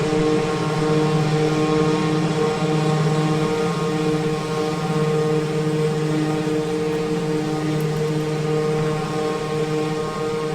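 Piaggio P180 Avanti twin-turboprop in a flight simulator, a steady, loud droning propeller hum with strong tonal layers, continuous and unchanging throughout.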